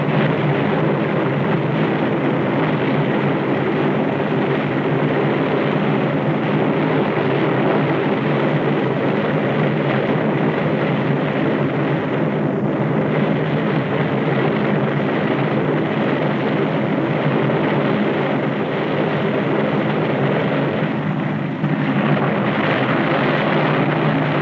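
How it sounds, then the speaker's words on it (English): TWA propeller airliner taking off, a steady, dense engine drone that holds loud and even throughout, without voices. "Kansas City Tower, TWA Flight 2, ready for takeoff."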